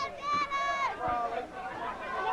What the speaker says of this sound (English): Crowd here of about 650, 700 people at the Burlington Athletic Stadium